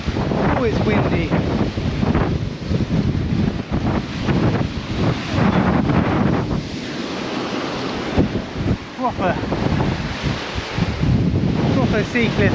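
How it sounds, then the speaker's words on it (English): Strong wind buffeting a microphone atop a sea cliff, with loud continuous rumbling gusts and waves surging below, steady and close throughout, with brief talk in the mix. "Oh, it's windy."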